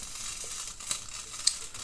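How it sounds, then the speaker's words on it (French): A soft, steady sizzle and hiss of a meat and plantain stew simmering in a covered pot on the stove, with a couple of faint clicks. "Je vais couvrir ma casserole et je vais laisser mijoter le tout"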